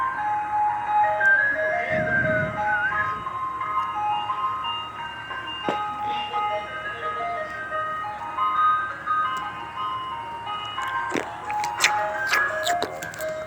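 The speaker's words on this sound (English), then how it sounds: "That's the weirdest ice cream truck you can get." An unusual ice cream truck plays its melodic jingle steadily throughout, the tune carrying over traffic noise with a few faint clicks and a brief low rumble early on.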